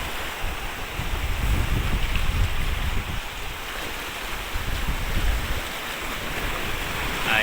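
Steady wind gusting across a rocky seaside fishing spot in Maragondon, blending with broad surf-like rushing and low microphone buffeting throughout, continuous and fairly loud with no talk.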